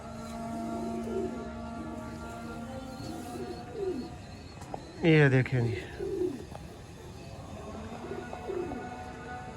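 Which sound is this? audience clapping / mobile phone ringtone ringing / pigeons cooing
pigeons cooing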